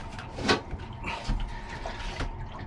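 Water gurgles and sloshes as it flows into a boat toilet's holding tank, a close, uneven trickling with a couple of louder surges.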